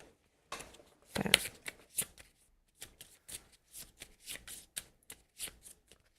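Cards shuffled over and over during a Fateforge: Chronicles of Kaan card game session, a series of quick riffling bursts and soft flicks in a steady rhythm, close and fairly quiet, with no talk.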